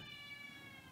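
A person's voice imitates a cat's meow in one short, faint, high-pitched mew.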